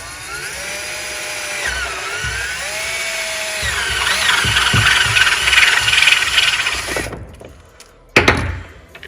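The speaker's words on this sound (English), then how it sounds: "So I'm gonna use a step bit here, and we're gonna get this drilled out." A step drill bit bores out a plastic wiring connector for a performance chip install on a 7.3L Ford Powerstroke, a steady loud whining drill with rising tone for about seven seconds, then a pause and a brief final burst.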